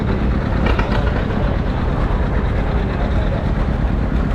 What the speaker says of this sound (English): up next we got a John Deere B built in 1949